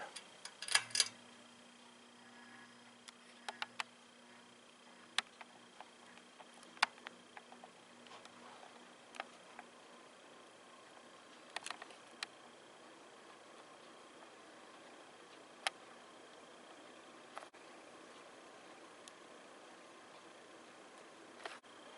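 A 1993 Canarm CF52 electric fan runs steadily on high speed, giving a constant whooshing hum, with scattered faint ticks and clicks.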